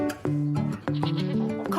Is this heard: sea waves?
no